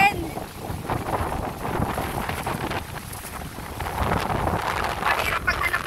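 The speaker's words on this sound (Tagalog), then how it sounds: "Lakas ng hangin." Strong wind gusts buffet the microphone on an open seaside shore, a continuous rough roar that swells and eases over a few seconds, with no clear voices.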